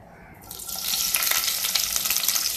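Onion and curry leaves sizzle in hot oil as a base for shark fish masala, a hiss that starts quietly then swells into a steady, close crackling fry with small pops throughout.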